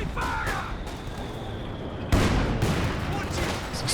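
An artillery barrage lands in a Company of Heroes 2 battle, a burst of gunfire and bangs followed by a sudden loud explosive impact about halfway through, with rumbling blasts after it and commentary talking over the action.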